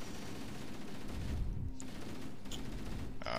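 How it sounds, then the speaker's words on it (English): An assault rifle fires in continuous rapid bursts at the Flood in Halo CE Anniversary on Legendary difficulty, a dense and unbroken fusillade with booming, echoing gunfire. "just take out all the Flood with an assault rifle"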